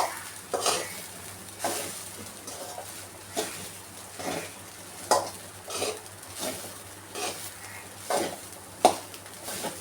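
Chinese-style fried rice with vegetables and paneer being tossed in a pan, a soft sizzle running under repeated scraping strokes of a spatula every second or so, close and moderately loud with no talk.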